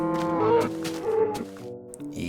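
A cow in the Minecraft video game lets out two drawn-out, low moos in quick succession, loud and close, with no talking over it.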